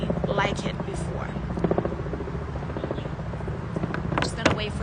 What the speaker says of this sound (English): I'm just gonna wait for this helicopter to go by